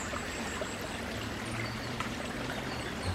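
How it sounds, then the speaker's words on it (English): A woodland brook pours over a small waterfall, a continuous close splashing and trickling rush with no talk, steady in level throughout. "the brook, and it's producing like a little waterfall."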